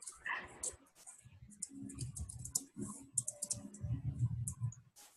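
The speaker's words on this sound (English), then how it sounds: "he's still typing the agreement" Rapid clicking of computer keys from someone typing during an online peer mediation session, a steady scatter of light taps mixed with low room noise and faint background voices.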